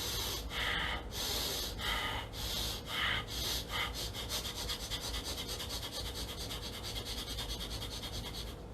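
Rapid, forceful breath-of-fire breathing in and out through the nose during an online kids' yoga class, with sharp snorting bursts at first, then a quicker steady pulse of close, breathy exhalations.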